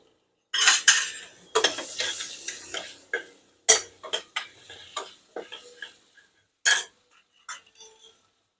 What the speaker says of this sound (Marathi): सर्व परतून घ्यायचं मीठ आणि साखर टाकली